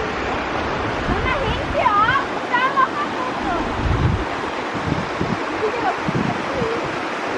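A waterfall in the Weissensee valley near Stockenboi roars steadily and broadly, with wind buffeting the microphone and birds chirping faintly.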